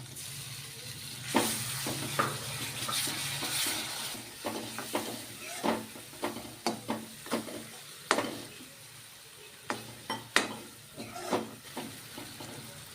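Steady sizzling of tomato frying in a pan with spices for tuvar dal, broken by repeated sharp scrapes and clinks of a spoon stirring against the metal.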